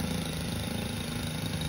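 Senix 4-stroke weed eater engine idling about 20 feet away, a steady, fairly loud low drone that holds even throughout with no talking.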